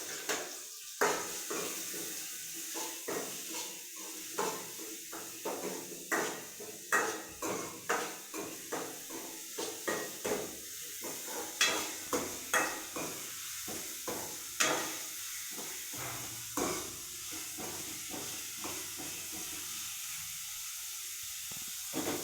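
Finely chopped onion hits hot oil already holding cumin and mustard seeds, producing a hissing sizzle with a steady run of sharp pops and spatula taps, close but moderately quiet, slowly settling toward the end.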